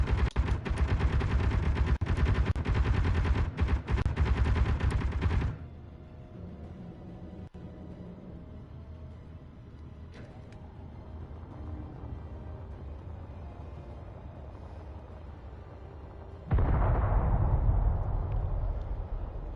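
Rapid bursts of gunfire in the underground survival video game Helios, dense and loud for about five seconds, then a quieter stretch of distant rumbling before another loud burst near the end.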